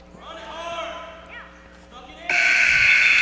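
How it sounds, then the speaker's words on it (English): A buzzer ends the first round of a high school wrestling match between Mountlake Terrace and Lynnwood. A loud, steady electronic blare starts partway through and holds to the end, following gym crowd noise and faint commentary. "And there is the buzzer for the..."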